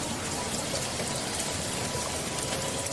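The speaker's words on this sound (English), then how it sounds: "Monsoon is the season when it rains." Monsoon rain falls hard and continuously, a dense, even roar of drops striking surfaces up close, with no talking.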